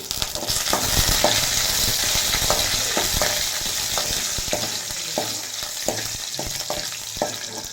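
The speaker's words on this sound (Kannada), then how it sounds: "ಸಾಸಿವೆ ಸಿಡಿತಾ ಇದೆ ಬ್ಯಾಡಿಗೆ ಮೆಣಸಿನ್ಕಾಯಿ ಹಾಕಿದ್ದೀನಿ ಎರಡು ಕರ್ಬೇವು ಹಾಕಿದ್ದೀನಿ" Mustard seeds splutter in hot oil with dried byadagi chillies and curry leaves for a simple buttermilk curry, a steady close sizzle broken by sharp popping crackles scattered throughout, with no talking.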